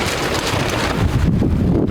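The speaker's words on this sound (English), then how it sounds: "The wind is getting absolutely crazy here." Strong gusts of wind buffet a campsite on an Oregon sand dune, a loud, continuous roaring rush with heavy microphone buffeting that swells and surges throughout.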